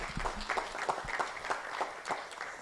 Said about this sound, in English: Another round of applause, please, for Francis.